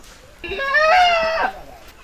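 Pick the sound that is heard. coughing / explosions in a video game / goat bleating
goat bleating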